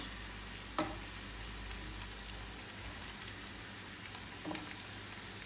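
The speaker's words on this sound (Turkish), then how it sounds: "Soğanların biraz diri, biraz daha kavrulabilir." Chopped onions fry and sizzle in a pan for a Turkish kaldirik pickle sauté, a steady close hiss of frying with two faint clinks of a utensil.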